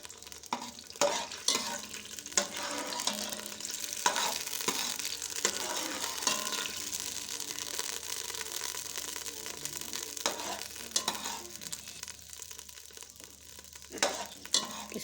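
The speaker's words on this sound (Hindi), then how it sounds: "2 से 3 मिनट के लिए हम ऑयल में इसकी भुनाई करेंगे।" Ginger garlic paste frying in hot oil for achar gosht gives a steady sizzle, with repeated scraping stirs of a spoon against the pan close by, and no talking.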